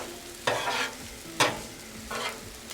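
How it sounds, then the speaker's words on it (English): Chicken and shrimp hibachi is stirred in a hot pan, with three distinct scraping stirs over a soft, constant sizzle. "I'm going to mix it. Going to mix it just like this."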